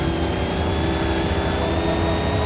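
A helicopter in the Knight Rider video game gives a continuous whirring rotor drone at steady loudness, with no gaps and no talk over it.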